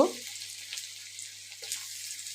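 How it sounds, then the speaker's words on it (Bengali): Vegetables with chopped chilli and salt frying in a pan for egg chowmein, a faint steady sizzle with a brief stir or clatter at the start, no talk. "এবার ভালো করে ভাজতে হবে এগুলো।"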